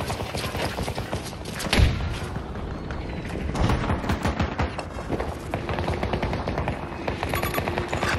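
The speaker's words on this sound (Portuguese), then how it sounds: "Lá vai, granada!" Grenade blast and gunfire during Conquest mode multiplayer in Battlefield 2042: dense, continuous automatic fire with a heavy explosion thump partway through and further booms, all loud and close throughout.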